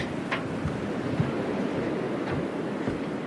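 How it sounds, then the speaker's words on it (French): Small waves lap and slap against the hull of a moored catamaran, a steady close wash of water with a few brighter splashes, no voices. "On entend un petit peu le clapot des vagues."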